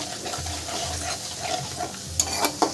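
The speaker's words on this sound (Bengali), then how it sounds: "জল দিয়ে একটু মশলাটা হালকা করে একটু কষিয়ে নেব" Mustard spice paste for bhola fish curry, loosened with a little water, sizzles gently in a pan as it is stirred, the steady frying broken near the end by a few sharp scrapes and clinks of the utensil.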